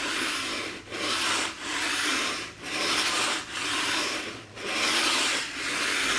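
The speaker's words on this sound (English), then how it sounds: "And by flat scraping, you can see that it takes them off." A flat scraper pushed across a floor to lift loose material left by cleats gives repeated long rasping strokes, about eight in a row, each separated by a short pause, close and loud with no speech.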